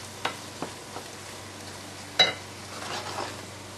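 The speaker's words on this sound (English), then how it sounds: "Right, just to saute them a little bit, but you don't need to worry about browning them." Onions and celery sauté in a pan with a soft, steady sizzle, broken by a few light utensil clicks and one sharper clank near the middle, close by and without talk.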